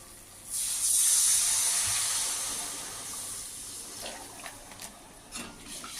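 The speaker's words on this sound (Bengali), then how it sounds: "মশলা কষানো হয়ে গেছে তেল ছেড়ে দিয়েছে এবার আমি এই সামান্য জল দিয়ে দেবো" Water is poured into a pan of spices already fried until the oil separates, for a boal fish curry. A loud steaming hiss bursts up at once, then fades into a softer bubbling sizzle with a few small pops.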